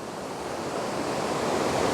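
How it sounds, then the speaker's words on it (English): Savage Falls pours in a steady, broad rushing roar that slowly swells slightly in loudness, with no voices over it. "It's definitely a beautiful waterfall."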